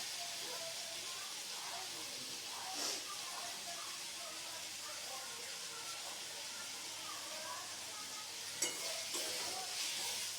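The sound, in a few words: frying masala on low heat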